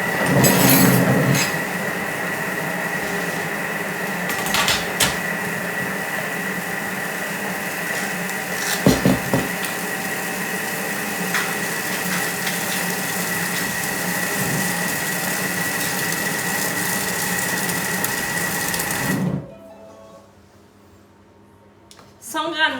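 A Thermomix runs at speed 4, mixing gianduja cookie dough with a loud, steady motor whir and rattling blades for about twenty seconds, then cuts off abruptly into near silence.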